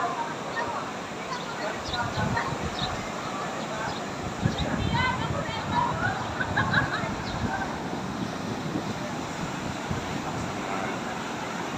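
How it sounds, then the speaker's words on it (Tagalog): Strong surf rolling onto the beach at Morong Star Beach Resort, a steady broadband wash of heavy waves with wind buffeting the microphone, while someone talks over it throughout. "Hindi pwede maligo, malakas yung alon bro"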